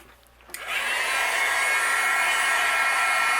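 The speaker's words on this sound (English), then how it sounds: "I'm going to use my heat gun and we're going to melt it" A heat gun starts up after a brief quiet moment and holds a steady, loud, airy blowing roar as it melts embossing powder on a handmade Christmas card.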